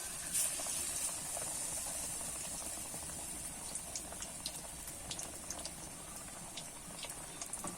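Mango and potato chop deep-frying in hot oil, a steady soft sizzle and hiss with scattered tiny pops and crackles, fairly quiet and continuous throughout.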